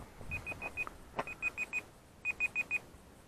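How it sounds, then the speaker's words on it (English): Electronic timer beeping in quick bursts of three or four sharp, high tones, repeated in groups with short gaps, heard outdoors near a small brushless RC F22 Raptor jet on dirt, with no talk. "let me turn off my timer"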